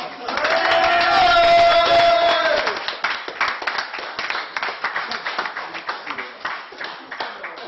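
Audience applause at a magic show at a fan convention: a dense round with some cheering voices at first, then thinning into scattered, rhythmic claps that gradually fade.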